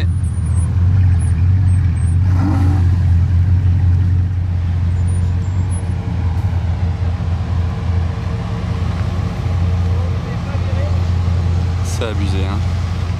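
A bus pulls away from a halt within a convoy of Bugatti supercars including a Chiron and a Divo, its steady engine rumble loud and close, with a hiss near the end and voices talking over it.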